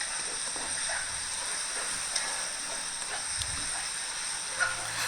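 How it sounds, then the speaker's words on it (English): Beansprout sweet black noodles being stir-fried in a wok over high heat give a steady, close hiss and sizzle with faint scraping now and then, alone without talk. "stir fry until the noodles is almost dry"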